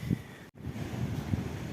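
Strong wind buffets a microphone outdoors near a camping-car, producing low rumbling gusts and thumps, with a brief dropout in the middle and no voices.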